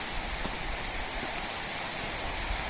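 Waterfall pouring down into the Chandraprabha river, a steady, dense rushing roar of falling water that stays constant and fairly close, with no voices over it.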